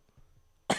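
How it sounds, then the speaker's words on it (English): A single sharp cough bursts out abruptly after a quiet moment, close and loud. "That was a cough."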